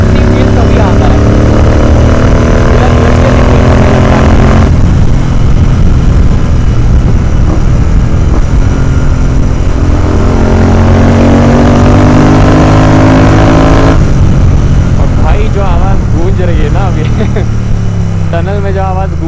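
A modified Royal Enfield Continental GT 650 motorcycle revving hard past 4000 RPM, loud and close with rising and falling engine pitch, echoing as if in a tunnel, with a rider's voice over it.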